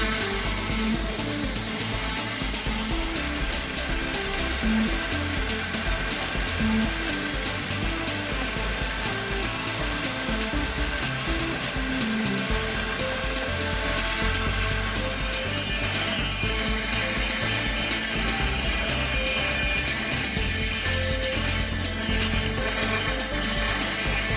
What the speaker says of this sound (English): And according to the actual grinding effect, carry out multiple grinding.